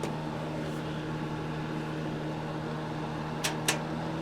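An electric space heater running puts out a steady, even hum and fan-like whoosh with a constant low tone, close and moderate, broken near the end by two brief sharp clicks.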